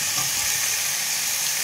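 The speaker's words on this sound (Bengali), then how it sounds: "দিয়ে দিলাম পেঁয়াজ কুচি, এটা হালকা হাতে নাড়িয়ে নেব।" Chopped onion with chili frying in a hot pan, a steady dense sizzle with light stirring, close and continuous, no talking.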